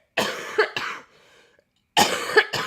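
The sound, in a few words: coughing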